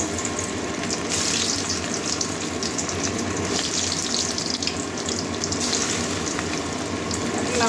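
Eggs fry in hot oil over medium heat, giving a continuous close sizzle with bright crackling bursts that stays steady throughout.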